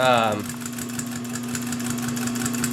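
Pfaff 134 industrial sewing machine driven by a clutch motor, running in a steady mechanical whir with a constant hum after a brief spin-up, close and continuous.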